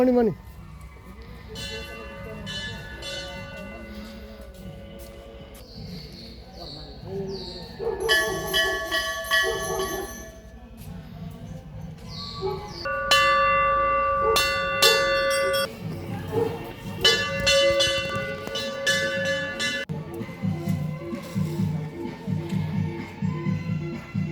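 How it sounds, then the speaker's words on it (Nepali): Bells hanging at the gate of the Kalika Bhagwati temple ring in several clanging bursts, bright and near, while people talk and a dog barks in the background. "मन्दिरको गेटतिर झुन्डिएका यी घन्टीहरू हुन्।"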